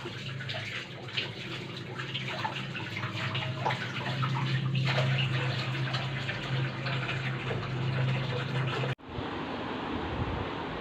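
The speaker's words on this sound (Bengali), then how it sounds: "চলো বাসন ধুয়ে নি।" Dishes washed under a running kitchen tap at home: a steady, close rush of water with faint clinks runs for about nine seconds, then cuts off abruptly into a softer, lower hiss.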